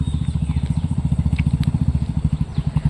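A Royal Enfield Hunter 350 motorcycle runs close by, its engine giving a rapid, regular thumping beat with slight unevenness toward the end.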